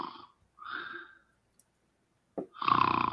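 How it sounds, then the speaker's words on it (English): A heavy man snores through his nose while sitting with his eyes closed. There are three separate snorting, rumbling breaths with quiet pauses between them, and the last one is the loudest and longest. "His eyes are closed, and he's making sounds through his nose."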